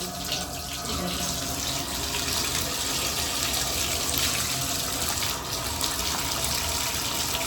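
Water gushes steadily from a tap during a hot-water check in a two-bedroom apartment unit, a loud, continuous hiss of flowing water close by with no break.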